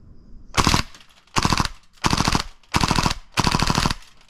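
A gas-powered airsoft rifle fires full auto in five loud, evenly spaced bursts, each a dense rattle of shots close to the listener with short pauses between.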